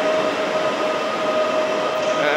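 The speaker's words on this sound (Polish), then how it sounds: "A tu wjechał pociąg z Katowic do Krakowa," A train of two EN64 units from Katowice rolls into Kraków station, giving a brief, steady rail rumble with a sustained tonal hum.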